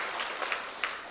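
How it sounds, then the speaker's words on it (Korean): A church congregation applauding in welcome during a Sunday morning service, a short burst of dense, fairly faint clapping. "우리 환영하는 박수 하도록 하겠습니다"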